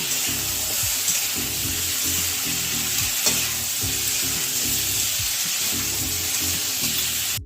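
Frying in hot oil for a fish cumin curry, a steady close sizzle with rhythmic scraping stirring strokes throughout, no talking.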